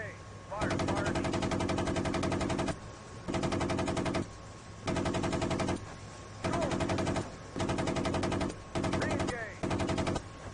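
Tank main gun fire and rapid automatic bursts from a combat simulation, loud repeated volleys in blocks of about two seconds separated by short pauses.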